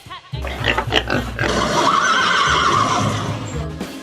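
A horse whinnies loudly and close, a long shuddering neigh that rises and fades over about three seconds with no talk.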